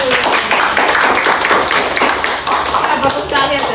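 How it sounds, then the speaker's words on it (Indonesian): Group hand clapping in a lecture or teaching session, dense overlapping claps at steady loudness throughout with some voices mixed in. "tepuk tangan"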